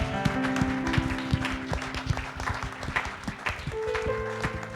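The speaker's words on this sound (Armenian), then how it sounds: "Հավատքով ծափահարիր ամենակարող Աստծուն" A church congregation claps in a steady rhythmic beat that runs throughout, with sustained music tones underneath and only faint speech.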